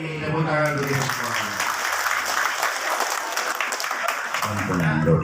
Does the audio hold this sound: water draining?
no